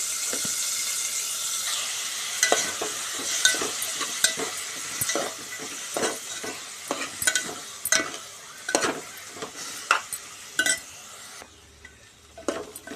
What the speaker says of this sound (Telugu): కొద్దిగా జీలకర్ర వేసుకుందాం ఫస్ట్ తర్వాత ఉల్లిగడ్డ ఉల్లిగడ్డ మొత్తం వేసుకొని వేయించుకోవాలి